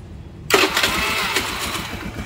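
A Honda Beat motorcycle engine with a flat battery starts after a short silence and settles into a steady, close, loud idle with no talk.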